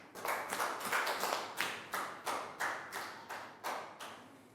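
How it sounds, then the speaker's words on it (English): A small group of pupils clap together for a classmate in a Year 3 classroom, starting as a dense patter and settling into about eight slower, evenly spaced claps that sound close and moderately loud. "Big round of applause for Prel."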